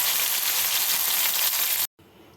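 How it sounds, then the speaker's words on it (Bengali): Shrimp sizzle in hot oil, a steady, close, bright crackling hiss that runs unbroken for nearly two seconds before cutting out abruptly to a quieter hiss. "চিংড়িগুলো ভাজা হচ্ছে, আর একটু লাল করে ভাজবো,"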